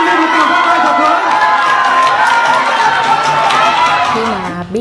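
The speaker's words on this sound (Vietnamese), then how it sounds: "Xin mời một tràng pháo tay thật lớn." Audience at a Vietnamese beauty pageant, Mrs. Charity 2015, cheering and applauding as the winner is announced, a steady dense crowd roar with shouts that carries through to the end.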